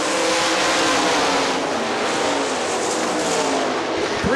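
Sprint cars roar around a speedway oval in a race, a dense, loud wall of engine noise from several cars running close together, with no voices over it.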